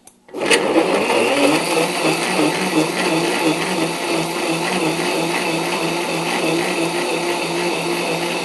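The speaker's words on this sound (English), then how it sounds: "We're going to blend them up a little bit here." A blender whirs on after a brief click, blending fruit steadily with a loud, continuous motor drone and a churning rattle.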